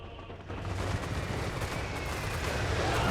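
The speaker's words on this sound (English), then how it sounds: "They're firing up on the walls on us." Enemy troops open fire from the castle walls in a video game battle, a dense, continuous rumble of massed gunfire that swells and holds steady throughout.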